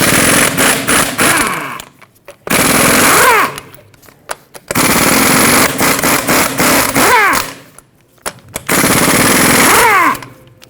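Impact wrench rattling off the 21mm lug nuts on a 2011-2016 Ford F-350 rear wheel, four loud hammering bursts of a couple of seconds each with short quiet gaps between them, no voices.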